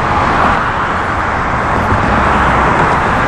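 Freeway traffic in Texas gives a loud, continuous broadband roar of passing vehicles, steady throughout with no voices.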